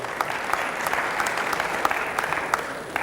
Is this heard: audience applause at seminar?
yes